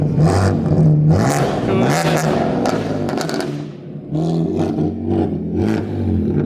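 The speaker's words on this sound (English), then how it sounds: "I'm finally gonna get to show you how loud the Z4 really is on the road" A BMW Z4's engine roars loudly on the road, revving hard with a rising and falling growl that stays close and continuous throughout.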